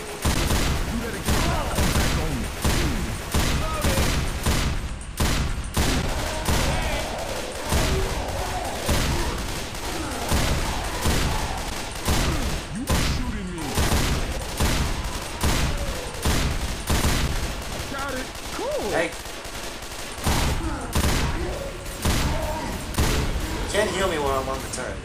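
Rapid bursts of mounted turret gunfire in the Left 4 Dead 2 video game, loud and sustained across the whole stretch with players talking over it.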